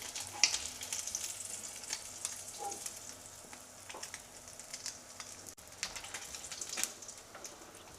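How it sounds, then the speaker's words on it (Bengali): Fish pieces frying in oil over a medium flame for a Bengali fish curry with brinjal and parshe fish, giving a steady, fairly quiet sizzle with scattered crackles and pops and no talk. "বাকি মাছগুলোকেও আমরা সেম প্রসেসেই ভেজে নেব।"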